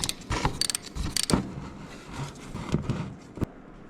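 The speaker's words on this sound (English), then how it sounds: "Bolts, we'll be using a 5/8 socket, and we're gonna go ahead and start with the transmission one first" A 5/8 socket works on the transmission drain plug of a 2024 Harley Road Glide, giving metallic clinks, rattles and sharp taps at uneven intervals, close up and moderately loud, with no talking.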